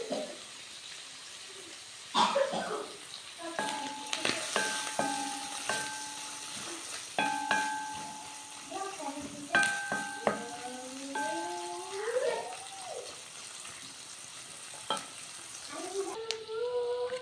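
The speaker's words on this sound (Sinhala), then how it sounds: "හාල් මැස්ස ටික හොඳට බැදිලා තියෙන්නේ" Dried sprats fry in a pan with a soft, steady sizzle, broken by repeated scraping and stirring strokes and clinks of a utensil against the pan, close and fairly quiet.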